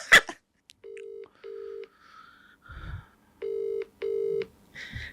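Telephone keypad tones beep one after another, a series of short, steady electronic pips with brief pauses and a faint click at the start.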